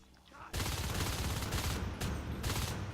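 Rapid automatic gunfire in the video game Natural Selection 2 during a competitive match, with loud sustained bursts starting abruptly after a quieter opening and continuing under faint commentary.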